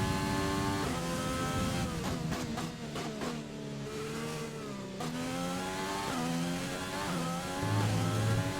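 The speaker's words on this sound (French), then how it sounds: "J'aime bien le bruit que fait ma voiture" Race car engine in the F1 2020 video game at Bahrain, loud and continuous throughout, revving up and down through repeated rising gear sweeps with sharp shifts, the engine note dropping then climbing again.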